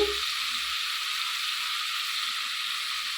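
Spices for bhuna masala fry in a pan with turmeric, making a soft, even hiss of sizzling oil that runs steadily throughout, preceded by a brief low knock at the start.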